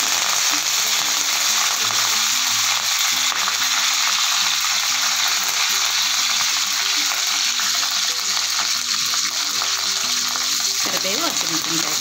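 Curry leaves crackle and sizzle in hot oil with mustard seeds while shavige bhath (vermicelli upma) is cooked, a steady bright frying hiss throughout with clinking and stirring underneath, loud and close.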